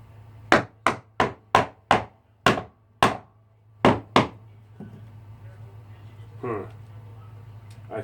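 Hammer blows on a plywood floor panel going down in a home workshop, about nine sharp, loud strikes in an irregular rhythm, followed by a quieter stretch with faint shuffling and a brief voice.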